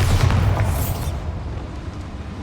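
A Bombarda explosion spell goes off in Hogwarts Legacy, a loud low booming blast with a bright crackling burst at the start that rumbles and fades over about two seconds.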